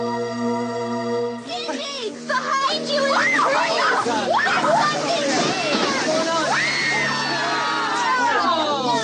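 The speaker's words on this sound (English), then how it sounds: "What's all the screaming about?" Several people screaming and shrieking together in an audio drama scene, loud overlapping high-pitched wails that sweep up and down and continue for several seconds after a sustained musical tone.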